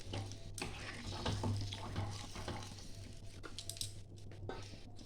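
Water poured into a pan of spiced fish curry gives a steady rushing, sizzling wash under a low hum, close but fairly quiet, with no talking.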